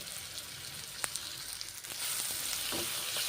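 Carrot and ridge gourd fry in a pan with turmeric and salt, making a soft, steady sizzle with a few light clinks and stirring scrapes. The sizzle grows a little louder toward the end, and no one speaks.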